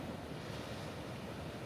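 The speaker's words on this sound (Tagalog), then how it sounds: "Lalaki ng alon." Big ocean waves rumble and wash continuously on a La Union beach in the early morning, with wind noise buffeting the microphone, a broad, steady roar.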